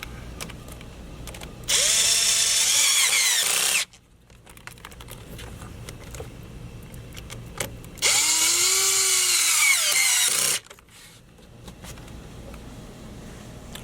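A power tool tightens hose clamps on the turbo inlet of an L5P Duramax during an S&B cold air intake install, running in two loud, steady bursts of about two seconds each, its whine dropping as each clamp snugs down.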